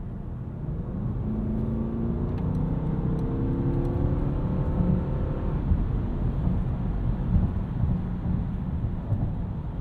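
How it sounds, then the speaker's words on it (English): A 2024 Mercedes-Benz GLS580 4MATIC with a 4-liter engine and snow tires drives along, giving a steady low engine drone with a gentle rising pull, heard from inside the cabin along with road rumble. "This 4-liter makes a pretty good noise as well."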